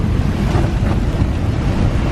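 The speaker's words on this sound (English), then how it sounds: "The waves don't seem to be that big. Well, they're not, it's the wind, isn't it?" Strong wind roars over the sea during a squall on a sailboat, with waves washing around the hull; the blustery rumble is loud and continuous and close to the microphone, with no talking.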